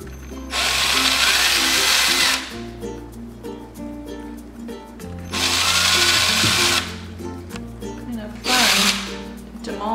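A power drill bores holes into a pineapple being carved into a jack-o'-lantern, running in three loud, close bursts of steady whirring with brief pauses between them.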